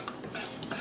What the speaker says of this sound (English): We give it a stir.